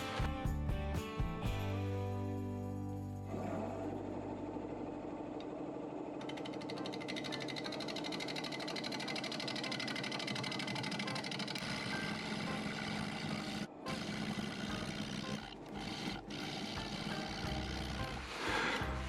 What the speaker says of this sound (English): when I'm cutting and I've got the gouge coming across here